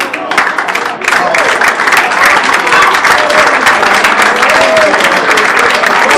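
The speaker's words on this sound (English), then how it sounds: "I believe the reason why you are clapping is that Gloria spoke your heart." A large audience claps loudly at a public talk in Ilorin, Kwara state, a dense, continuous wall of applause with crowd noise that holds steady throughout.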